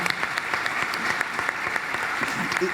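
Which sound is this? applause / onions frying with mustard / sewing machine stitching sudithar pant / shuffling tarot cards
applause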